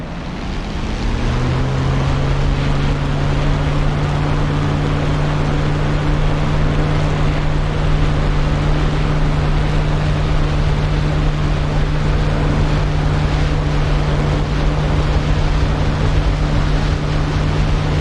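A propeller aircraft engine throttles up for takeoff, a steady loud drone with a strong low hum that builds over the first couple of seconds and then holds, rushing wind-like noise over it throughout.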